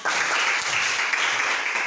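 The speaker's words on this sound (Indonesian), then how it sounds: "Tepuk tangan." Pupils in a classroom applaud during a teacher-training lesson, a steady, close wash of many hands clapping that fills the whole moment at fairly loud level.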